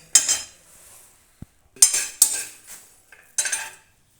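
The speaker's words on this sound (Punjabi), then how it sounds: "ਲਓ ਜੀ ਹੁਣ ਜੀਰੇ ਤੇ ਸੌਂਫ ਨੂੰ ਸੇਕ ਲੱਗ ਗਿਆ" Cumin and fennel seeds dry-roasting in a pan are stirred in a few short, crisp bursts of scraping and rattling, separated by near silence and a couple of light metallic clinks.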